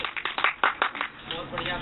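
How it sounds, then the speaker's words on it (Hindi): Participants at a yoga session at Patanjali Yogpeeth in Haridwar clap in encouragement, a quick series of sharp claps that thins into scattered claps, with voices mixed in. "उत्साहवर्धन के लिए हम सब चाहते हैं तालियों की"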